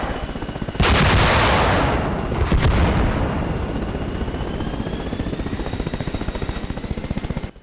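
An Mi-8 helicopter in ARMA Reforger lets loose a loud, sudden rocket salvo over the constant thumping rotor drone. The burst of blasts fades over a couple of seconds while the rotor keeps pounding close by.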